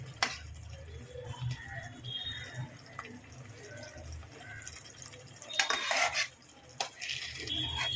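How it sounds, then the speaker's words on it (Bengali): Spice paste for an egg curry being stirred and braised in a pan with a little added water: soft scraping and stirring over a low simmering hiss, with a few sharper clinks of a utensil against the pot near the end. "এবার আমি আর একটু জল দিয়ে আর একটু ভালো করে কষিয়ে নেব।"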